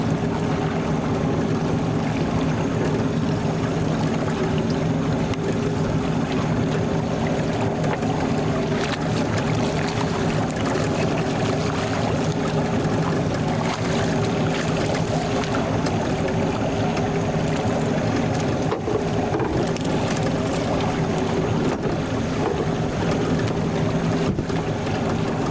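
Steady pontoon boat motor drone over water, continuous and fairly close, with splashing and hiss throughout and no voices.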